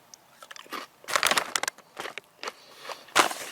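Thin, crunchy low-carb crisps are chewed close to the microphone, giving a series of sharp, irregular crunches and crackles in bursts over quiet pauses, with no talking.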